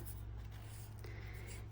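Ink being applied to the edge of a journaling paper page, a soft, quiet rubbing and dabbing that runs steadily under low background hum, with no voices.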